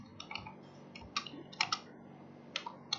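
Keys on a computer keyboard click in short irregular bursts while a name is typed, close and crisp with brief pauses between groups of keystrokes.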